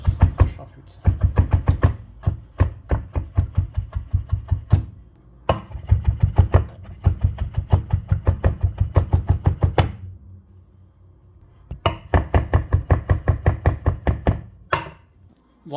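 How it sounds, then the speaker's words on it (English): A knife chops capers and gherkin on a cutting board in rapid, steady bursts of close, loud thuds, pausing between runs, with no talking. "So yeah, for this just chop it."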